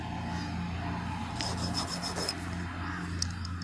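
A lotus seed's hard coat is rubbed against a rough surface to scarify it, producing a close, continuous dry rasping scrape with a few sharper strokes and a steady low hum behind.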